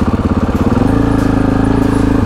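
A trials motorcycle engine putters close and loud in a fast, regular pulse while the rider brakes down a steep descent, the note rising slightly and then holding steady, with no talk.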